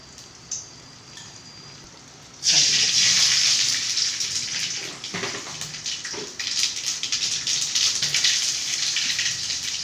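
Spices and curry leaves drop into hot oil for a kuzhambu curry, setting off a loud, sudden sizzle that crackles and spits steadily at close range after a quiet start.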